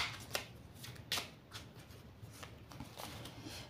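A deck of oracle cards is shuffled and cut by hand, giving soft, fluttering riffles and light slaps under a faint background hiss.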